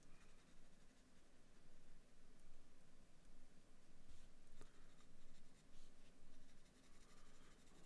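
Pencil lightly stroking paper while adding highlights to a misty mountain drawing, a steady soft scratchy graphite rasp running continuously at close range, with no voices.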